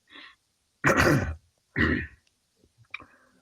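A couple of harsh, rasping throat-clearing coughs, close and loud, separated by short silences, with a faint click afterward.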